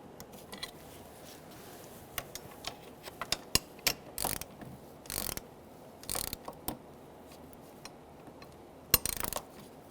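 A ratchet socket wrench clicks in short, sharp bursts while tightening intake manifold bolts on a 2000–2007 Ford Taurus 3.0L V6, the quiet ratcheting separated by pauses and scattered metallic taps.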